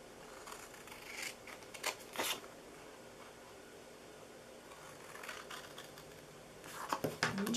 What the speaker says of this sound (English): So we are cutting off all 4 of these corners here.